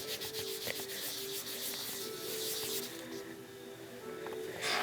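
Makeup brush or applicator rubbing back and forth on sandpaper to pick up colour for doll restoration, a steady close scratchy sanding sound throughout.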